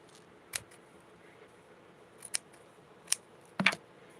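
Scissors cut fabric for the armholes of a Barbie doll top, four sharp, quiet snips spaced apart at close range over a hushed background.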